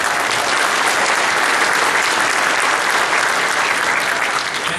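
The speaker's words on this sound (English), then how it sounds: "give yourselves a round of applause" An audience applauds at a school district concert, with dense, steady clapping from a large crowd that holds at full strength throughout.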